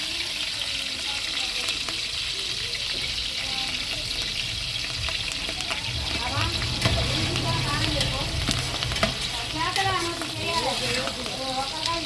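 Onions being softened in hot oil for a tempering, a constant close sizzle with occasional stirring scrapes and faint background voices.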